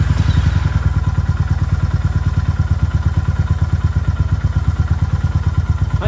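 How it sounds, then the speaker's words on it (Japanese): A Honda GB350S single-cylinder motorcycle idles close by with a steady, even, low thumping pulse that stays constant throughout; the engine start itself is not evident. "エンジン始動します。"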